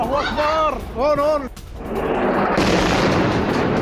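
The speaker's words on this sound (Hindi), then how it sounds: "सीरिया में रूस की नॉन स्टॉप बमबारी" Russian bombing of rebel groups in Idlib, Syria, including a Hayat Tahrir al-Sham weapons depot: a short voice at the start gives way to a loud, sustained roaring rush of blast noise that fills the rest of the moment.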